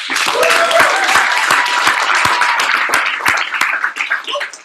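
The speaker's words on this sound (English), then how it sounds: "can we get a big round of applause?" A breakout-session audience at a conference gives a full round of applause, with dense, steady clapping that stays loud throughout and thins out slightly toward the end.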